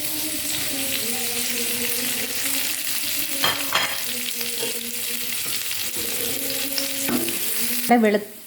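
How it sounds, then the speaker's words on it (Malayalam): Hot oil sizzling loudly as chopped garlic, green and red chillies and curry leaves fry for chicken 65, with intermittent stirring clatter and a sharp metallic scrape just before it cuts off. "കുനുകുനാന്നരിഞ്ഞ കുറച്ച് വെളുത്തുള്ളിയും പച്ചമുളക്, 1 പച്ചമുളക്, ചുവന്ന മുളക്, കറിവേപ്പില, ഇതെല്ലാം കൂടെ ചേർത്തൊന്ന് വഴറ്റിയെടുക്കാം നമുക്ക്"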